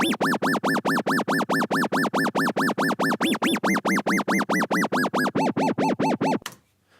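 A dubstep drop built from square waves on Logic Pro's test oscillator: about two dozen rapid rhythmic wubs with rising and falling pitch sweeps, loud and evenly pulsing, then cutting off abruptly near the end.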